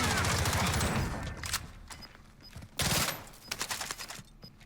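In the video game Call of Duty Warzone, bursts of rapid automatic gunfire crackle loudly, with dense volleys at the start and sharper single shots and short bursts afterward. A commentator's voice sits faintly underneath.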